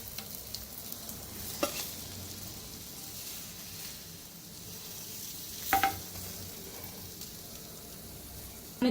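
Brinjal slices frying in oil in a pan, a quiet, steady crackling sizzle heard up close, broken by a few faint clinks and scrapes.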